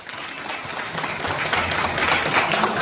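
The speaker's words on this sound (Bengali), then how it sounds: "আমরা সবাই সেবল মিয়ার জন্য হাততালি দিই।" An audience at a community gathering in Birmingham, UK, breaks into applause. The clapping is a dense, rising patter from many hands and swells toward the end.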